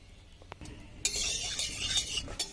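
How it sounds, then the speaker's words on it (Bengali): Cooking oil poured into a wok on a stove for a meat curry, a brief hiss and splattering rush starting partway through and continuing close and fairly loud, preceded by faint clinks. "কড়াই বসিয়ে দিয়েছি, এবার কড়াই দিয়ে দেবো তেল"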